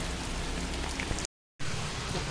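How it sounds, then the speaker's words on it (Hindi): Heavy rain pours down in a dense, steady roar of drops striking surfaces. A brief total dropout breaks it in the middle, then the downpour resumes just as loud. "बहुत ही तेज बारिश पड़ रही है"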